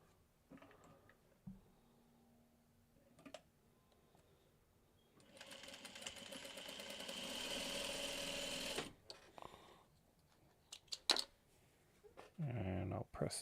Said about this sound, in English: I gotta resew this piece back on.